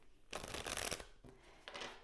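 Tarot cards being shuffled in two quick riffling bursts, close and fairly soft, with a short pause between them and no talking.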